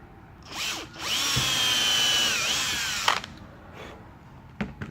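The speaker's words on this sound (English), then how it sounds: "I'm going to drill 2 holes through it" A power drill whines steadily for about two seconds while drilling two holes for a rivet in a belt, its pitch dipping briefly under load, with clicks and handling noise before and after.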